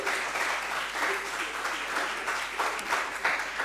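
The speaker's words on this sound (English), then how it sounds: "Round of applause again, everybody." An audience claps in a sustained, steady round of applause at an International Day for Disaster Risk Reduction panel discussion and exhibition, dense and even throughout with no gap.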